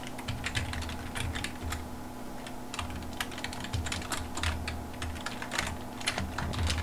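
Steady typing on a computer keyboard, with rapid soft key clicks over a low, constant hum throughout.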